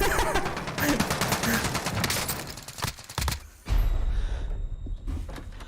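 Rapid gunfire crackles in a Call of Duty Warzone match, with dense automatic bursts, a short pause and then a heavy boom followed by more shooting.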